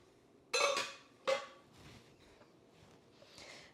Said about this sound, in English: now we're just going to put these in a saucepan